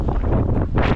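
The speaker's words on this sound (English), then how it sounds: "But it is windy. I don't know how well you guys hear me," Heavy wind buffets the microphone in low rumbling gusts, loud and continuous, with a stronger blast near the end.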